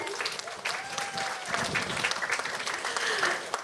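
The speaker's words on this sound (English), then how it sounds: "Let's give him a round of applause." Audience applause at an outdoor Indian Arrival Day celebration in Debe, a steady, moderately loud patter of many hands clapping, with faint voices mixed in among the crowd.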